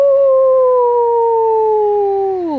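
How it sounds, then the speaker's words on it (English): A coyote howls at the moon in one long, loud, close howl that holds a steady pitch, then drops away at the end. "Coyote saw his handiwork and began to howl."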